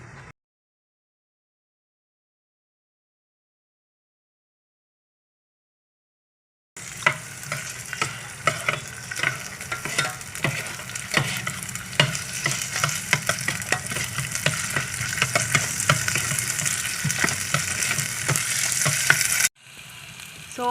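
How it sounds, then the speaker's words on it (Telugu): Chopped onions and carrots sizzling and frying in oil inside an electric kettle, a dense, steady crackle with stirring scrapes that starts abruptly after silence and runs loudly for about thirteen seconds before cutting off. "సో ఫస్ట్ అయితే ఉల్లిగడ్డలు వేసుకుంటున్నా. క్యారెట్ కూడా ఉల్లిగడ్డలతో పాటు వేస్తున్నా."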